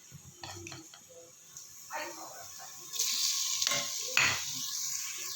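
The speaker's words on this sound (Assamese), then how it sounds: "এইখিনিক এতিয়া ভালদৰে ভাজি ল'ম।" Ginger and garlic frying in ghee in a pot for chicken pulao, with a soft sizzle and several scraping stirs and utensil clinks against the pan, growing louder toward the end.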